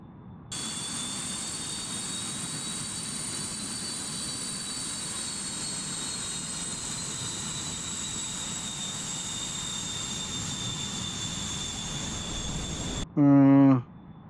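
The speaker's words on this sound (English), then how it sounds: "In Syria, we are flying Turkish F100s." A simulated 1960s Turkish F-100 jet flies low in the DCS flight game, its engine a steady, continuous roar and whine lasting many seconds, cut off by a brief loud burst of sound at the very end.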